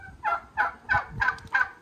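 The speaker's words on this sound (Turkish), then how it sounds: "Şu baba bir hindi ya." A big male turkey, kept in a farmyard flock with black turkeys, gobbles in five quick, rhythmic bursts, loud and close, with no talk over it.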